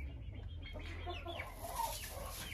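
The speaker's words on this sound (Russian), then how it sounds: "курочки сегодня сидят в курятниках, то есть в своих вольерах" Hens in their coops and pens cluck softly and intermittently over a steady low background hum, with no voices.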